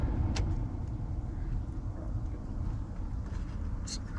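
An air conditioner blower fan runs on high speed inside a 2004 Chevy Express 3500 van with a 4.8L engine, giving a steady, close rushing whoosh with a low rumble underneath and a faint click or two.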